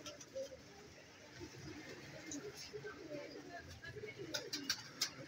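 Pigeons of a fancy breeder stock, a closed-tail Raja pigeon among them, coo softly at a distance amid faint background chirps and rustle, with occasional sharper bird calls near the end.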